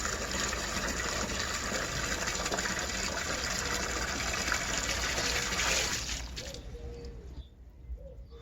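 Water gushes steadily into a collapsible silicone watering can filled to the top, a constant loud rushing stream that cuts off near the end and leaves a quiet outdoor background with faint birds.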